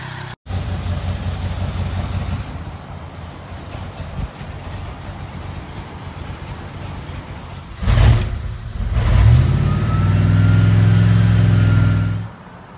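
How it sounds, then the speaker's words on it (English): Car with a 360 police engine and nitrous oxide idling at a Petersen cars and coffee gathering, then revving hard in two loud bursts near the end, close by, with no talk. "It's a 360 police engine with nitrous oxide."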